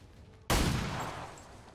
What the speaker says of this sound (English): Can you shoot him in the head, please?